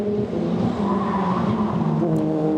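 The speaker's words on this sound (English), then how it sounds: "The red and black car then squealing its tyres into Shell Oil's corner." A BRDC Formula 4 race car at Oulton Park in 2015 squeals its tyres into Shell Oils corner, with a loud, sustained tonal screech over continuous engine roar.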